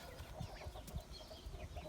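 Chickens in a backyard coop of Denizli and Brahma breeds cluck softly in a short, faint burst of low murmuring calls with faint background noise.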